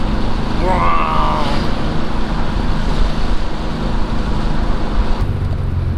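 Road traffic rolls past a parked car in hot weather, engine and tyre noise from passing vehicles swelling and fading nearby, with a brief higher whine early on.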